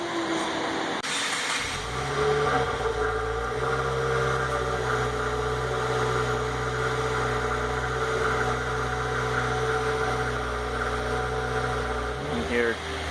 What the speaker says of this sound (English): We're going to be doing an exhaust sound on this one. You got the traditional quad tip exhaust on this one, completely stock.